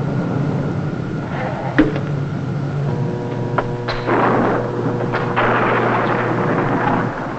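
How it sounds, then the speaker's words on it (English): A thunder sound effect in a 1954 science-fiction radio drama rumbles loudly with sharp cracks and a sustained low roar, dense and continuous. "Like the thunder and lightning's on their ball team."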